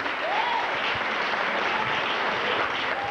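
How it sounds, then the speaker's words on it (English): A congregation in church gives a round of applause for the women's choir, a steady wash of clapping that lasts about three seconds at moderate volume. "Let's give another round of applause for the women's choir this morning."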